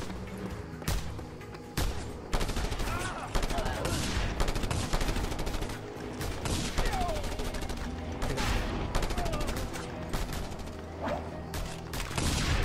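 Shotgun blasts and scattered gunfire in the video game Just Cause 2 make an irregular, rapid volley of sharp, loud bangs that continues throughout, with game voices talking over the shooting.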